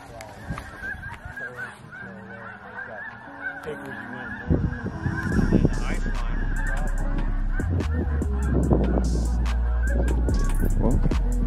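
A large flock of snow geese honks from a Nebraska pasture, scattered calls at first, then swelling into a loud, dense, continuous chorus of overlapping honks close by.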